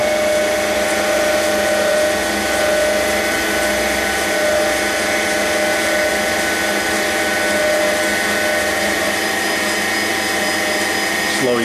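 An Eldorado M75-30XT gun drill with counter-rotation and a pneumatic steady runs continuously, a loud steady machine whine and hum with dense high tones, while a voice briefly speaks.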